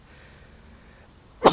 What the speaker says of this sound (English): hold on, I feel another sneeze coming.